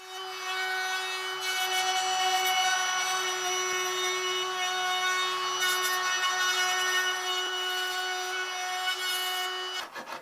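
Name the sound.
working wood with a Stanley number 75 hand plane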